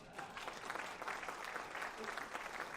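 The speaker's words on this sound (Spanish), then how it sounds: "Un aplauso para Víctor." Audience applause at an annual business meeting on geopolitical risk, a steady dense clapping from a crowd that fills the whole stretch at moderate loudness.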